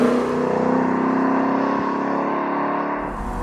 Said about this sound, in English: There's something about the sound of a Mustang.